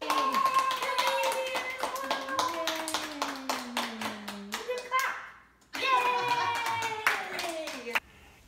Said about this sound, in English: My grandchildren cheered loudly because they now have a new cousin.